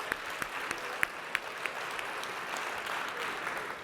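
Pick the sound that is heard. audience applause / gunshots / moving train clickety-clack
audience applause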